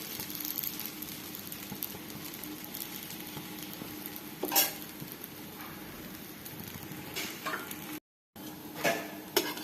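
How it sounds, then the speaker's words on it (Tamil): Puran poli frying on a tawa: a continuous soft sizzle with occasional louder crackles and scrapes, briefly cutting out near the end before resuming. "நம்ம தவாவில் போட்டு ஃப்ரை பண்ணிக்கலாம்"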